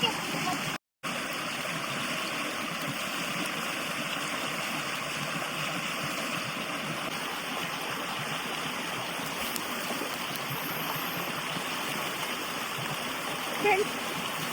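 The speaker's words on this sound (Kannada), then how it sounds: "ಮೇಲ್ಗಡೆಯಿಂದ ಅದ್ರದ್ದು ನೀರು ಬೀಳ್ತಾ ಇದೆ" Water falling from above beside a stream, a steady loud rushing splash that fills the whole stretch with only a brief dropout near the start.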